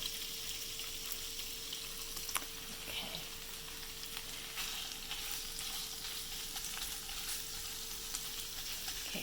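Shrimp sautéing in a hot pan over medium heat, a soft, low steady sizzle with occasional faint clicks and scrapes, quiet and even throughout.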